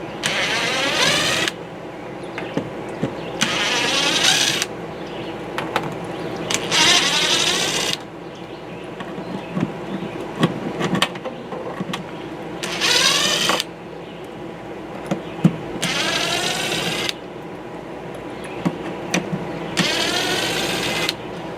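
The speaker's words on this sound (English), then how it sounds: "The DeWalt driver sure makes an easy job of it." A DeWalt driver sinks screws while installing a Suburban SW6DE water heater in a KZ toy hauler RV, with repeated bursts of high whirring that start and stop every few seconds over a steady background hum.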